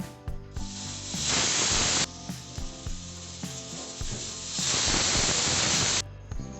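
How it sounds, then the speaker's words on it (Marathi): Two long, loud bursts of steam hiss out of a pressure cooker cooking vegetables for pav bhaji, separated by a quieter stretch, with soft music playing underneath. "कुकरच्या तीन ते चार शिट्ट्या काढून घेऊ"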